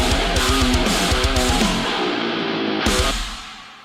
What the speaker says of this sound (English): They sound like this, with all of the bass scooped out of them